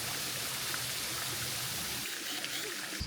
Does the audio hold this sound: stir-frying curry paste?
no